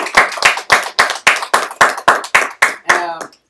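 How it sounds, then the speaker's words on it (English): A small group claps in about a dozen sharp, evenly spaced bursts, close and loud, ending in a brief trailing sound. "give a round of applause for everyone over here"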